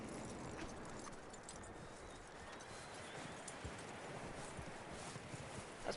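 Horse hooves walking steadily over ground in Red Dead Redemption 2, a continuous soft clip-clop under a dense bed of outdoor ambience, with no talk.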